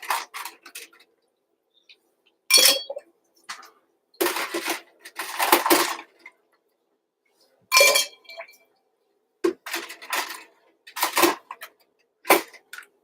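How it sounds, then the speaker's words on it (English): Fresh ice dropped into a mojito glass, bright clinks and rattles in separate bursts with silent gaps, close up and crisp. "But first off, we're going to add ice. Again, fresh ice,"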